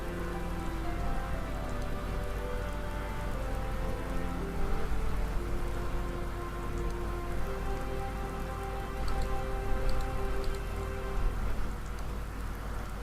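Steady rain falls in the video game Skyrim, a continuous hiss of drops on surfaces layered over sustained low musical tones, with no voices.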